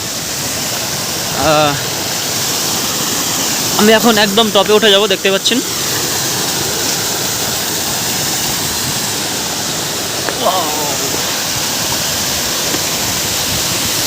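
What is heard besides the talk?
waterfall flowing, Rock Garden, Darjeeling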